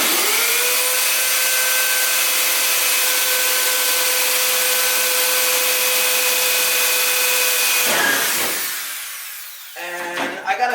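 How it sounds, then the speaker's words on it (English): A power drill with a 1/8 inch bit bores out a spot weld on an F250 truck bed, a loud steady high whine for about eight seconds, then grinding bursts as the bit breaks through and spins down. "you're going to drill that spot weld."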